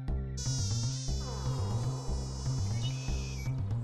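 Cartoon mosquito buzzing in an animation about the mosquito life cycle, a steady high whining drone over bouncy background music with a looping beat, lasting the whole short stretch.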